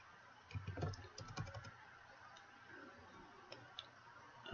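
Code being typed on a computer keyboard: faint, quick clusters of soft key clicks with short pauses between bursts, close by in a quiet room.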